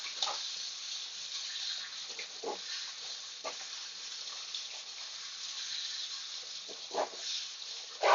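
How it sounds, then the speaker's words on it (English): A steady hiss of water spray rinsing the rotten roots of a Miltoniopsis orchid during repotting outdoors, continuous and close, with a few brief splashy bursts and no talk. "So I'm going to give it a quick spray."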